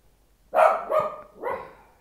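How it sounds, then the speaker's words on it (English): A dog barks three times nearby, loud and clear, with short gaps between barks and quiet before the first one. "My dog just barks in the background all the time."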